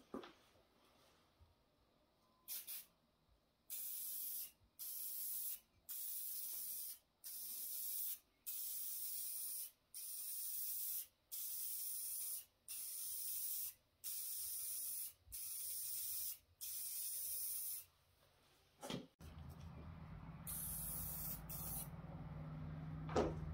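Aerosol spray paint applied in a second coat to the roof of a 1990 Ford F-250 pickup, about a dozen steady hissing bursts of two seconds or so, each separated by a short pause, close and loud with no talk.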